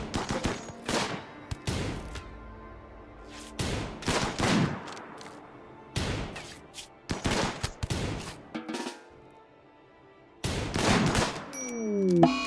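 Bursts of gunfire in the colony-building game RimWorld, with sharp volleys of shots in irregular clusters separated by short pauses, crackling rapid-fire runs and a rising tone near the end.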